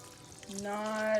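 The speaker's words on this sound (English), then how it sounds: "I'm using my pot to just drench it in water" Clean fresh water pours from a pot onto sea moss, a short steady stream rising in pitch as the vessel fills, heard alone and fairly close.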